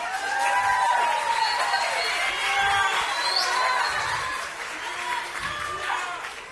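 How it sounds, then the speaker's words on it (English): Audience applause for a beginning women's choir at a fall choir concert, a sustained crowd of clapping with whoops and cheers over it, fairly loud and continuous. "Give them a round of applause, please."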